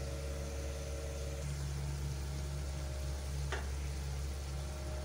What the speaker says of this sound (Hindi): अभी इस टाइम पे हम इसमें ये वाला मिक्सर डाल देंगे जो मैंने तैयार करके रखा हुआ था